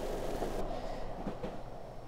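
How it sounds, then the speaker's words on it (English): A train in the video game My Child Lebensborn rumbles along steadily, a low continuous rolling drone that holds at an even level throughout with no voices. "We should travel by train all the time."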